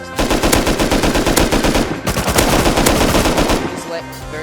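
Rapid automatic gunfire from the video game Rust, loud and sustained, sounding like a machine gun firing in dense continuous bursts with a brief dip near the middle and a tapering at the end.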